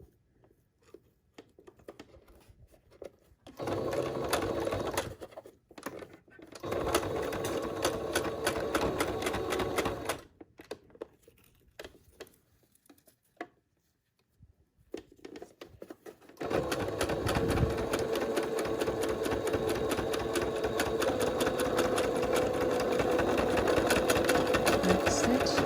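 A sewing machine stitches a homemade filtered face mask in short bursts of rapid mechanical whirring separated by pauses, then one long, steady run of stitching to the end, close and clear.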